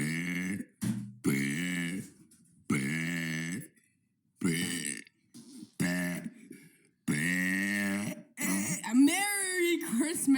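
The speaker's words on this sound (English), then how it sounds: "that was day 37 of burping for 100 days" A person produces a run of throaty, voiced burps and grunts in choppy bursts, close and fairly loud, some stretched long, ending in a rising, groaning note.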